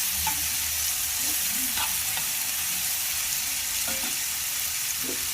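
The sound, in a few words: green peas frying and being stirred in a pan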